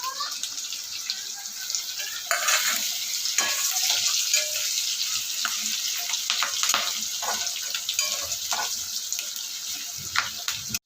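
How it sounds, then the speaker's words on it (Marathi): Curry leaves drop into hot oil with garlic for a home-style dry chicken sukkha, giving a steady close sizzle and crackle with bursts of spattering that run throughout. "त्याच्यानंतर टाकूया कढीपत्ता"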